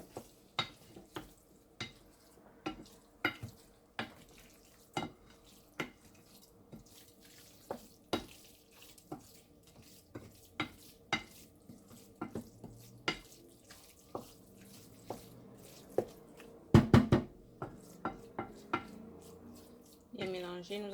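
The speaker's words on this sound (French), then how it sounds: "Et maintenant, nous allons bien mélanger" A spoon works through a cabbage roll filling mixture in a bowl, giving sharp, irregular clicks and scrapes, faint between strokes, with a quick cluster of louder knocks toward the end.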